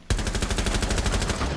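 Rapid automatic gunfire from the Rainbow Six Siege video game, a loud, unbroken burst of shots that starts abruptly and continues evenly throughout.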